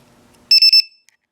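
A LiPo battery low-voltage cell alarm, fitted to a Craftsman 14.4V cordless drill converted from NiCd, lets out three rapid, piercing, loud electronic beeps in quick succession close to the microphone, following a faint low hum.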